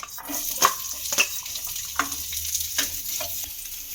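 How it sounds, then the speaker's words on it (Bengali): Chopped onion dropped into a pan of hot white oil sizzles with a steady, close hiss, broken by a few sharp crackles and spatters. No one speaks. "তেলটা বেশ গরম হয়ে গেছে এর মধ্যে দিয়ে দেব কুচিয়ে রাখা একটা পেঁয়াজ"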